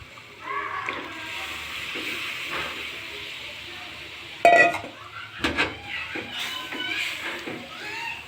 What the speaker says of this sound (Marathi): आता आपण भाजी घालूया